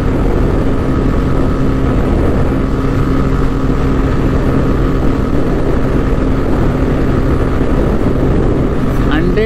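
A TVS Raider 125 motorcycle after its first service, flat out in fifth gear near 100 km/h, makes a loud, unbroken engine drone mixed with heavy wind rush.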